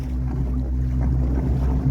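A small fibreglass boat runs flat out under a Haibo electric outboard motor on the sea. A steady low motor hum blends with constant wind buffeting and rushing water, loud and unbroken, with no voices.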